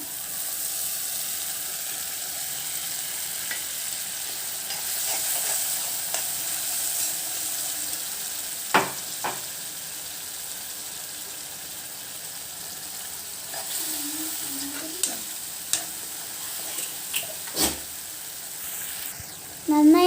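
Ground dried red chilli paste is stirred into mango pickle frying in a pan, making a soft, continuous sizzle broken by occasional sharp scrapes and clinks of the spoon. No one speaks.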